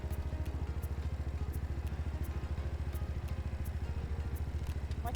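A CFMoto Papio SS motorcycle riding in first gear with a faulty kickstand kill switch, its engine putting out a rapid, even chugging pulse with faint ticking clicks, close and steady for a few seconds.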